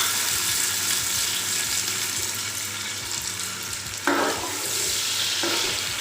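Sliced onions tossed into three spoonfuls of hot oil for a chana pulao sizzle and crackle steadily, with a sharper burst of frying midway, close and fairly loud with no talk.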